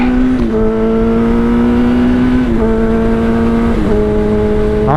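A Kawasaki ZX10R motorcycle accelerates hard and alone, loud and close, its engine tone climbing steadily through the gears with brief dips at each of two upshifts.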